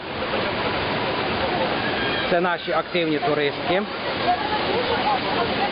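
The Sheshory mountain waterfalls rush with a dense, steady roar that fills the whole clip, while a person speaks over it partway through.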